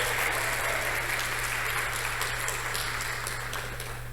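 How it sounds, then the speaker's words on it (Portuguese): Church congregation at a deliverance seminar applauding steadily, a dense wash of hand claps at moderate distance that slowly fades toward the end. "Vamos aplaudir Jesus por isso."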